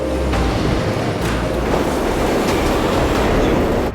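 An oncoming train rumbles through a station, a steady loud roar of wheels on rails with faint clicking, holding level throughout before cutting off at the end.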